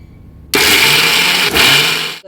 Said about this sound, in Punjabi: ਆਪਾਂ ਮਿਕਸੀ ਨੂੰ ਰੋਕ ਰੋਕ ਕੇ ਚਲਾਉਣਾ ਜੀ